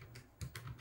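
Keys clacking on a Minitel terminal keyboard, a few separate close strokes spaced unevenly across a short moment, with a faint low hum underneath.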